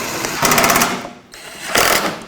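A ratchet clicks rapidly in two bursts with a short pause between, tightening the horn mounting bolts on a 2001-2007 Volvo V70. The sound is close and fairly loud, with no talking.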